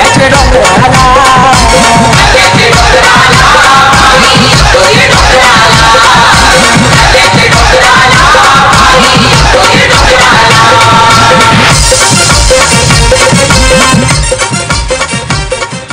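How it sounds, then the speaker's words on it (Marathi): Spectators roar and whoop continuously at a village cricket match in Daighar, a dense, loud crowd din with shouts and yells rising throughout and swelling near the end. "तर प्रेक्षकांचा जल्लोष आहे"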